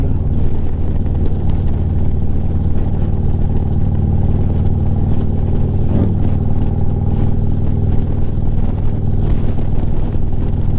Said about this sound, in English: Mustang goes around